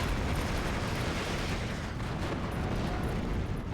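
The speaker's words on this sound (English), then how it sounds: "This is where you're seeing the mortars come in. This tank gonna die to mortars." Mortar shells explode in the strategy game Steel Division 2, a dense, loud barrage of overlapping booms and crackling blasts that rumbles on without pause.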